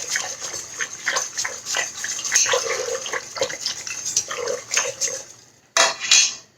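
A spoon stirs cooked tomato puree with added hot water in a pot for red enchilada sauce, making continuous close scraping, clinking and sloshing that stops briefly before one more clatter.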